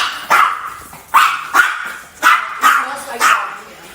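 A dog barks five times in a fairly even rhythm, loud and close indoors, with each bark sharp and short and no speech over them.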